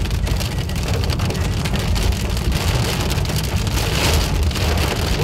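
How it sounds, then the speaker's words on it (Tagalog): Heavy rain with large drops pounding a surface, a loud, dense, continuous patter that stays steady throughout without voices. "Umuulan na naman."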